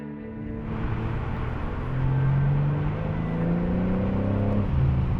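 A car in four-wheel drive sport mode with electronic aids off accelerates hard around a track, its engine note climbing and whirring through gears at moderate volume with no talk.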